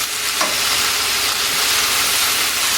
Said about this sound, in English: I'm going to put the beef in slowly and carefully